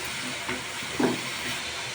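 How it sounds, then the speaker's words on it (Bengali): Ginger, garlic and ground spices fry in a pan with a little water added, producing a constant low hiss. One short, louder sputter pops out near the middle. "মশলাটা ভাজা হয়ে গেছে ভালো করে"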